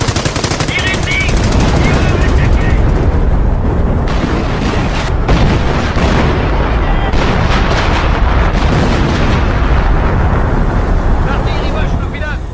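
Relentless artillery shelling and heavy machine-gun fire pound a village in an action film battle, a dense continuous roar of booms and rapid shots with shouting voices underneath throughout.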